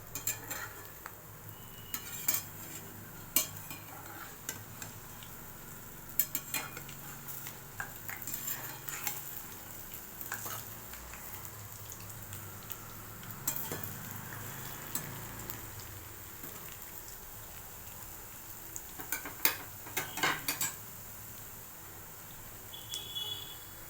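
Lentil fritters (biulir dal bora) frying in boiling oil, a soft continuous bubbling sizzle with frequent sharp clinks of a utensil against the pan throughout.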